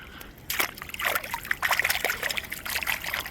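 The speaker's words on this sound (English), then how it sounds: "Wash that off, give it a good rinse." An agate rock rinsed in river water outdoors, with close trickling, sloshing and small splashes coming in uneven bursts after a quiet start.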